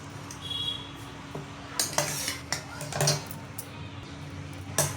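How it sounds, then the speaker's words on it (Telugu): Cooked raw mango pieces are spooned from a pot into another bowl, with several sharp metal clinks and scrapes of a spoon against the vessels spaced irregularly over a quiet background. "ఇప్పుడు ఈ ముక్కలు వేరే బౌల్లో వేరే గిన్నెలు అయితే వేసేసుకుందాం."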